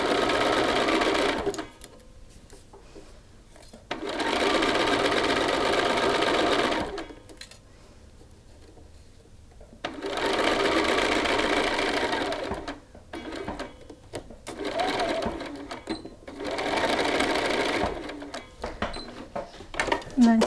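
A sewing machine stitches across a shirt cuff in several bursts of fast, even whirring. Each run lasts a few seconds and is separated by quieter pauses with small handling clicks.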